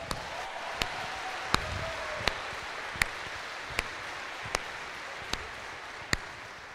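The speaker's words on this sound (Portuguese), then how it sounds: "Deixa que eu mesmo aplaudo também." A man clapping his hands during a sermon in a church setting, slow evenly spaced single claps, about nine in all, cutting through a steady background hiss.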